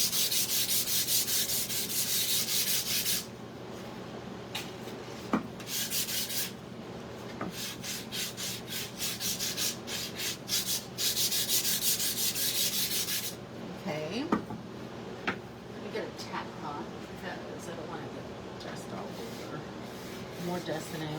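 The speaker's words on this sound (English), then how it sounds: "So let's just give this a really light sand, especially on the edges." Light hand sanding of a plastered piece at a desk, steady rubbing strokes in continuous bursts with brief pauses, close and moderately loud, with a few small knocks.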